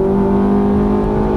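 A Ferrari F430 on a race track at Fontana runs at full throttle, a loud, steady, close engine drone with strong tonal harmonics holding throughout the short burst.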